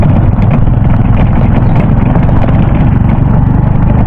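A small motorcycle engine strains loudly and steadily at close range on a rough farm road, with a continuous low rumble and no pauses.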